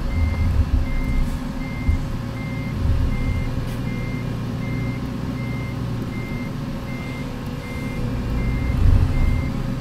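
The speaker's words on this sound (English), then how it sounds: "Just seeing Gideon parking and maneuvering his little no-nose truck that he imported from Euro Truck Simulator" A no-nose semi truck reverses while parking in American Truck Simulator. Steady, evenly spaced reversing beeps repeat over a loud, constant diesel engine rumble for about ten seconds.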